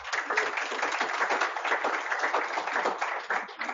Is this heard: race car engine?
no